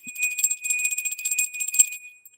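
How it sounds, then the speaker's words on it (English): A small ritual bell rung before a tarot reading, a steady high ringing tone with shimmering overtones that sustains for about two seconds, close and clear with no talking. "we're going to ring the bell"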